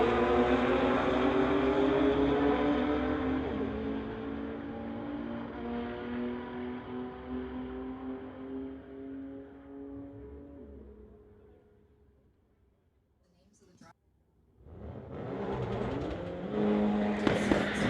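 Street-legal drag race between a 2021 Nissan and a 2017 Infiniti: loud engines roar down the strip and fade into the distance, followed by a sudden burst as more cars launch hard.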